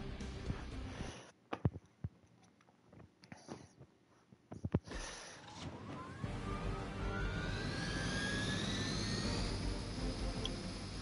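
A helicopter engine in the Marvel's Midnight Suns video game, its steady whirring drone building up and holding over rising whining tones, preceded by scattered sharp impacts and clatter.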